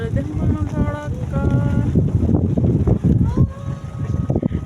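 Strong wind gusts buffet the microphone outdoors above a mountain bazaar in Dolpa, Nepal, a loud, rough rumble that rises and dips, with a few other tonal sounds mixed in.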